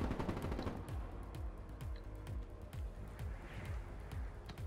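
Dense bursts of rapid automatic gunfire from Call of Duty Black Ops 3 crackle continuously, repeated low thumping shots under a busy layer of game noise, loud and close throughout.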